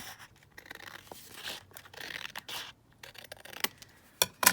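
Scissors cut through a scrap of fabric up close, giving soft snipping and rustling of the cloth, with a couple of sharper clicks toward the end.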